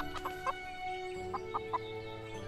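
Chickens in the farming game Everdream Valley give a few short, evenly spaced clucks over a steady background hum of game music.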